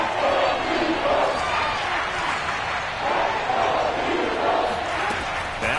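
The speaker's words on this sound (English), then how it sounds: "Crowd getting in it a bit already" Football stadium crowd at an Eagles vs Chiefs game makes a loud, continuous roar that rises and falls slightly in waves, with no clear single voices standing out.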